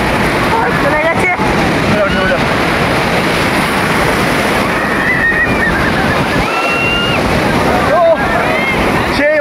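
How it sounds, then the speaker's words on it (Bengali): Sea waves surging and breaking on the beach at Puri, a loud continuous wash of surf mixed with heavy wind buffeting the microphone, with voices speaking over it. "ওই দেখো ঢেউগুলো আসছে"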